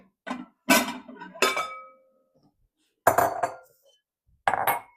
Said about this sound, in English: I'm going to get 2 other bowls out